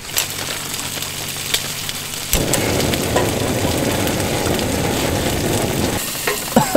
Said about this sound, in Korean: 냄비에 순두부 소스와 대파 양파를 넣고 약 중불로 2분간